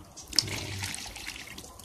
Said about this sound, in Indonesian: kalau sudah dituang seperti ini, kita masukkan ke ember